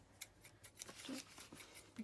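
Scissors snip repeatedly at paper while making a junk journal ephemera holder from a vintage postcard folder, the crisp cuts coming in a quick, uneven rhythm, quiet and close with no talk.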